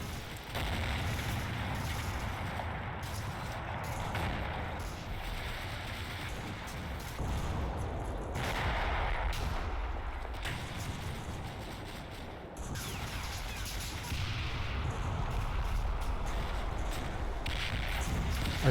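Heavy gunfire from the wartime tactical game Combat Mission Fortress Italy as a platoon crests a hill, sustained dense crackling and rumbling bursts at moderate distance, continuous with brief lulls and no talk.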